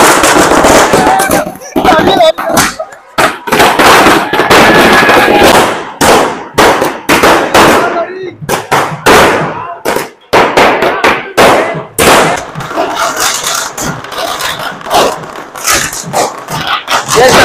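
Loud, rapid firecrackers crackle and pop in dense bursts at a festive welcome procession, with a dog barking and voices mixed into the din.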